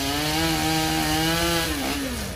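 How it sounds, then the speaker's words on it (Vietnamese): A chainsaw cutting through a tree trunk, a loud sustained engine whine with shifting pitch as the blade bites into the wood, close and continuous. "Rồi anh Tùng sẽ tiếp tục cưa."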